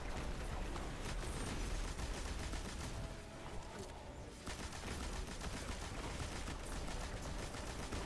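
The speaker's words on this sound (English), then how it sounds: "I'm just gonna do a bit of grenade spam with the machine gun" Sustained machine gun fire mixed with grenade blasts in the Destiny 2 Guardian Games competitive mode, a dense, continuous fusillade with explosive thumps, briefly thinning midway before resuming at full intensity.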